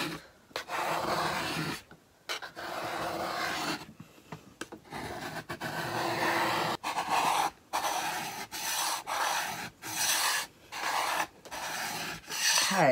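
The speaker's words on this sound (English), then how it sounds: "I'm going to finish scraping this down." Dried Resin Crete being scraped off a mini Christmas door decoration, with close, repeated rasping strokes in a steady back-and-forth rhythm and brief pauses between passes.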